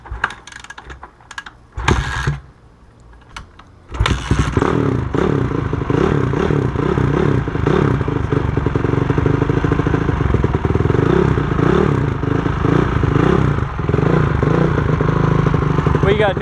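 Old 450R dirt bike engine starting after a few kicks and quiet pauses, then running loud and close with a fast rattling, clattering idle that continues to the end.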